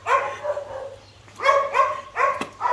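An aggressive Swiss shepherd and Kuvasz mix dog barks in short bursts, several loud close barks in uneven groups with brief yips between, at a kennel.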